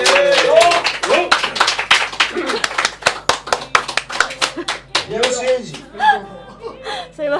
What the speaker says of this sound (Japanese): 皆さん拍手お願いします。